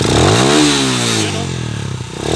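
A motorcycle engine revs up and falls back, its tone climbing then sliding down, loud and close with a clattery mechanical edge.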